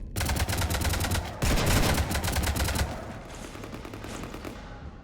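Sustained video-game gunfire strafing a ship, a dense rapid machine-gun fusillade that is loud at first, briefly surges, then thins to weaker rattling bursts.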